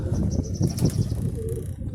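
Pigeons being flown coo low and steadily over a rough, noisy background, with brief bursts of fluttering wing noise.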